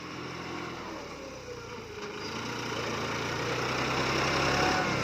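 A John Deere 5610S tractor engine runs steadily at close range, a low rumbling drone with a constant tone that swells slightly louder over the last few seconds.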